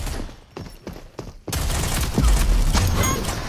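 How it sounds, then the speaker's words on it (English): A Gatling gun fires in a video game in a dense, continuous burst that becomes loud and sustained after a brief stretch of scattered softer shots. "this shit is not powerful enough, that Gatling gun."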